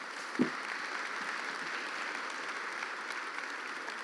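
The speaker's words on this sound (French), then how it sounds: "On peut les applaudir pour ces premiers échanges" A conference audience at a climate and aerospace summit applauds steadily, a dense even wash of clapping at moderate level that holds for several seconds, with one louder thump near the start.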